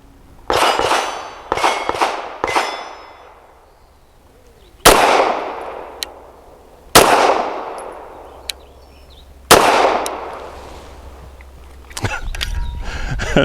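Pistol gunshots from a BUL Armory SAS II TAC 4.25 firing Winchester Defender bonded 147 grain rounds, about seven loud sharp reports, three in quick succession and then four spaced a couple of seconds apart, each with a ringing decay, plus metallic clinks.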